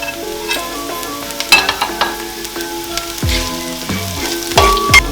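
Onions and green chillies frying in a pan for chicken mushroom biryani, with scraping stirs and clinks of a utensil, a steady sizzle underneath, with some kitchen music-like tones in the background.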